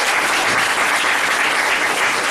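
An indoor audience claps to welcome a singer onstage, dense steady applause that fills the whole moment at close range.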